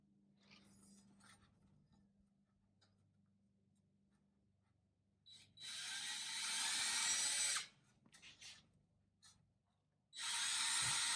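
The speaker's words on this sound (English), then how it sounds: "drill a pilot hole" A drill with a 1/2 inch bit bores a pilot hole into a faux wood viga, two loud bursts of whirring separated by a quiet pause, with faint handling noises before and between them.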